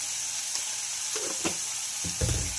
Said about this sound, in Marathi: छान येणार असं मऊ होईपर्यंत परतून घ्यायचं आहे